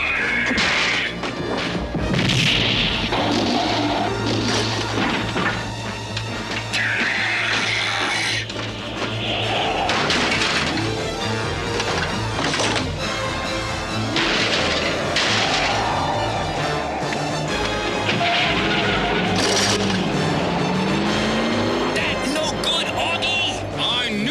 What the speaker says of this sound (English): Missile crash!